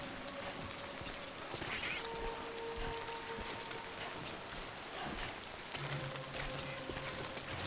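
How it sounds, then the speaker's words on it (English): Steady rain falls in the video game Death Stranding, a continuous broadband hiss of drops spattering on surfaces with a few faint tonal game sounds drifting underneath. "area, the rain won't stop, of course"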